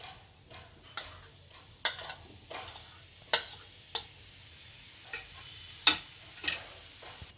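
Grated paneer frying in hot ghee in a pan, with a faint steady sizzle under a series of sharp spoon-and-pan taps and scrapes spaced irregularly through the stretch, no voices.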